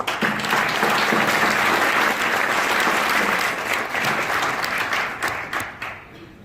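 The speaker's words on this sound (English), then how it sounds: "we need to give a round of applause to those who have the courage to develop businesses" Loud, dense applause from a chamber of commerce audience, sustained clapping from many people that holds steady before tapering off toward the end.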